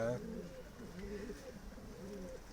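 Soft, low coos from Adana pigeons repeat in a gentle rhythm, fairly faint, with a brief voice at the start.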